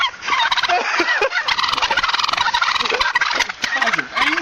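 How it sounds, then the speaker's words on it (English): Several wild turkeys in a flock on a road gobble loudly and repeatedly, their rapid rattling calls overlapping close by with almost no pause. "a flock of wild turkeys blocks traffic, with the birds turning into angry birds"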